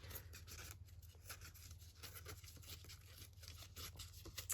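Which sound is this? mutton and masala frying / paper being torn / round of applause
paper being torn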